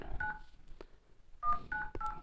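Keypad tones from the MIUI dialer app on a Poco X3 NFC phone running the MIUI Mint 13 ROM on Android 11: a few short beeps, then a quick run of several more, clear and close with nothing else around them.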